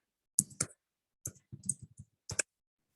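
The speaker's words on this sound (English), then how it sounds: "While I'm typing this data" Someone types data into a program on a computer keyboard during a Python class, heard as a few short bursts of crisp, close key clicks separated by brief pauses, with no talking.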